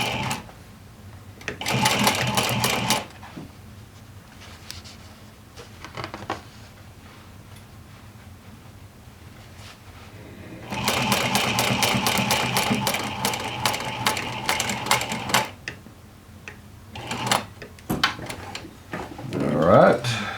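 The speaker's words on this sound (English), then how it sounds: "just sew about 1/8 of an inch in." A sewing machine stitches a jeans seam in two loud bursts of rapid, even needle pulses, one short and one longer, separated by quieter handling noise.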